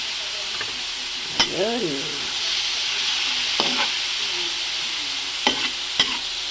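Pork and chicken fry in a pan for sticky rice, a steady close sizzle broken by scraping stirs and a few sharp clinks, with a brief spoken word and a short sliding vocal sound over it.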